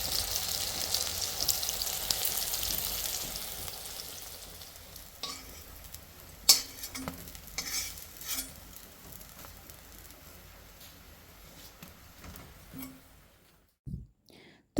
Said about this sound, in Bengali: বড়া ভাজা হয়ে গেছে